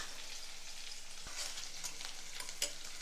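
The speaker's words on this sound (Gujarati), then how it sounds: "ચપટી જેટલી હિંગ અને એક સમારેલી ડુંગળી ઉમેરી તેને પણ સાંતળીશું." Chopped onion with mustard seeds, cumin and a pinch of asafoetida sautéing in hot oil in a pan, a steady close sizzle with occasional stirring scrapes and no talk.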